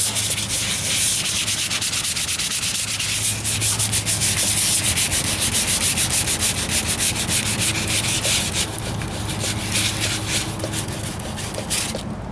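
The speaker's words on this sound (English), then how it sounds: "I've had success with wet sanding in the past, so why not do it again?" Wet sanding on a 1998 Ford Ranger driver's side wheel arch repair, a close, steady rhythmic rubbing and scraping of abrasive over the panel that continues throughout without talk.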